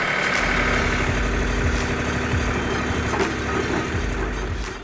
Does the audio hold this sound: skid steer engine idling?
yes